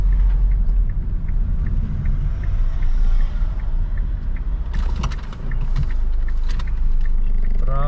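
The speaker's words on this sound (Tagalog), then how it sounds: "Traffic." Town street traffic on a hot, busy day rumbles continuously as vehicles idle and move past nearby, with occasional brighter engine swells and horn-like bursts over a steady low drone.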